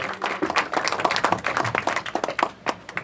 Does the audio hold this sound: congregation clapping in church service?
yes